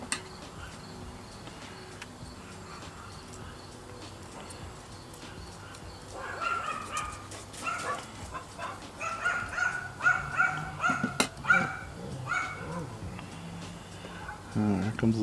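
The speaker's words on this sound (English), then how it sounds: "Dogs right on schedule." Several dogs bark outdoors at a moderate distance, joining in from midway with repeated irregular barks over crickets and garden sounds, with a person talking nearby.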